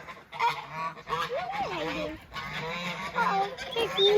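Geese honking loudly and close at a northern chicken coop, a continuous overlapping chorus of harsh, wavering honks with no pauses.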